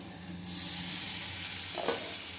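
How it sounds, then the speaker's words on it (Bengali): Mushrooms fry in spice masala in a pan for mushroom dal, a dense continuous sizzle that stays loud and even, with a short stirring scrape near the end. "এবার মাশরুমটা একটু কষতে থাকুক"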